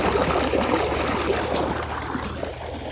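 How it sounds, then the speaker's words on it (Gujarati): Water trickling and pouring steadily as drinking water is filled in a farm field, a continuous close splashing stream with an outdoor hum underneath and no talk. "પાણી પતી ગયું તો પીવા માટેનું પાણી ભરી લઈએ આપણે."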